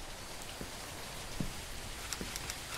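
Steady rain in a horror cooking video game, a dense even hiss of falling drops with a few soft taps and patters scattered through, continuous and unbroken with no voices.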